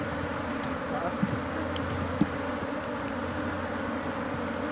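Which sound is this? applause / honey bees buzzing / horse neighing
honey bees buzzing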